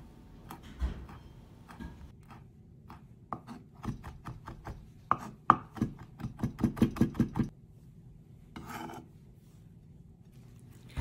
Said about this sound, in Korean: 너무 뼈 자체가 두꺼우면 뼈는 제거해 주시고, 괜찮다면 이것도 잘게 다져주세요.